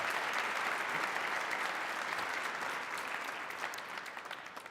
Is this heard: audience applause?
yes